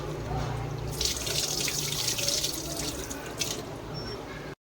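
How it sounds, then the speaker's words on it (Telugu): Two glasses of basmati rice are washed for biryani under a running tap. Water streams and splashes steadily into a sink with brief surges of gushing, then cuts off abruptly at the end. "రైస్ని 2 టైమ్స్ వాటర్లో బాగా కడుక్కొని వాటర్ వేసి నానబెట్టుకోవాలి"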